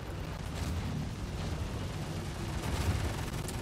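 Missiles and guns firing in a space combat video game, a dense, continuous low rumble of explosions and gunfire with a few sharper bursts, loud and unbroken throughout.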